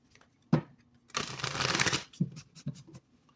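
Tarot cards being shuffled by hand, a brief tap, then a rustling riffle lasting about a second, followed by a few soft card taps, quiet and close.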